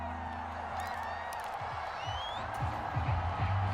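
A stadium crowd cheers in the Madden NFL 25 football video game, Ravens against Bengals, as a dense, steady roar of voices with scattered whoops and whistles at moderate distance, slightly swelling toward the end.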